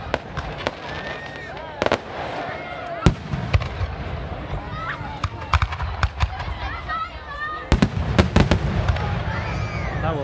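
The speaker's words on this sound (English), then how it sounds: "Fireworks." Fireworks at the 2017 Heritage Days festival in South Charleston, Ohio burst in sharp, loud bangs at irregular intervals, some in quick clusters, while a crowd talks and calls out between the explosions.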